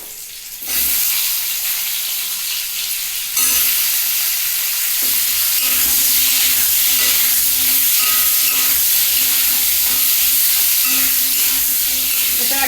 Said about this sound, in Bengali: এবার আলুটাকে আগে ভেজে নিচ্ছি